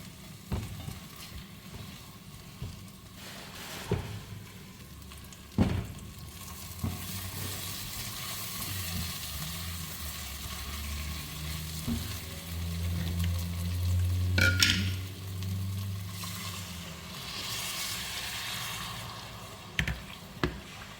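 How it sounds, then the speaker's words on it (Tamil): Fried elephant foot yam roasts in masala in a pan, producing a sustained crackling sizzle punctuated by occasional stirring scrapes and taps, close up with no one talking. "ஃப்ரைடு யாம் போட்டு கொஞ்சம் சேர்ந்து வரட்டு அது ஒரு நிமிஷம் நல்லா ரோஸ்ட் ஆகிட்டு மசாலாவில் பிடிக்கட்டு"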